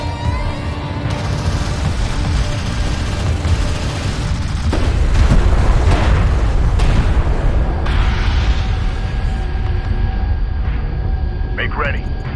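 A light attack vehicle blown apart in Homeworld: Deserts of Kharak, heavy booms and crackling detonations amid continuous loud battle noise, with a radio-style voice speaking over it.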